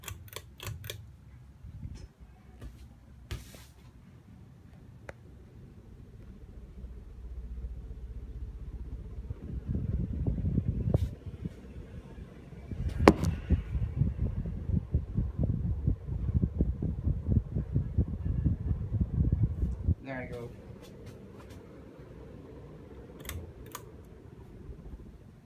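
A Hunter Quiet Breeze ceiling fan, running in reverse, slows to a stop with a soft, steady low whir that fades away, broken by scattered sharp clicks and a louder stretch in the middle before the sound gets quieter.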